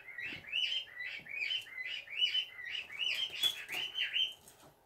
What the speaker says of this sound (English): Oh, I know those birds are loud.